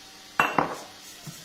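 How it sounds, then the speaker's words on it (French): A spoon clinks twice against a bowl while cake batter with egg yolk is stirred, two quick close knocks, then a faint soft tap. "et on continue à mélanger."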